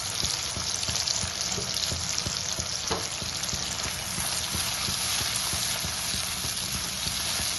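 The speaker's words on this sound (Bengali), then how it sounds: "মশলাটাকে আমি ভালো মতো কষিয়ে নেব" Masala paste with a splash of added water sautéing in a pan for a chicken pepper dish, a steady dense sizzle with faint stirring clicks throughout, close and continuous with no voices.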